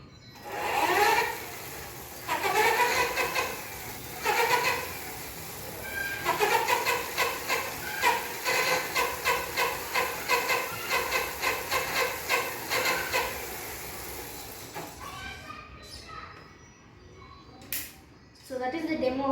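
Electric hub motor on a bicycle converted to electric power, whirring and ticking in a rapid rhythmic pattern that speeds up and runs steadily, moderately close, with some intermittent clatter.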